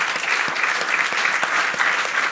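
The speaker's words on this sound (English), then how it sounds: "Can you join me in applauding our speakers here" Audience applause at a festival event honouring Indigenous voices, a dense steady wash of many hands clapping close and loud throughout, with no voices standing out.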